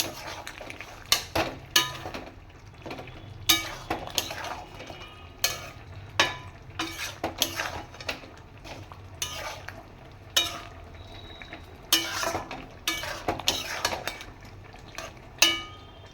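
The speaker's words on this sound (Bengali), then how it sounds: "দিয়ে একটু তলা যাতে না বসে যায় তলাটা নাড়িয়ে দিলাম" Lemon chicken is stirred in a pan, with a spoon scraping and clinking against the metal in irregular strokes over a soft, steady sizzle, fairly quiet and close, with no talking.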